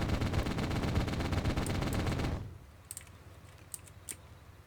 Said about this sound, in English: that's infantry there, so keep firing.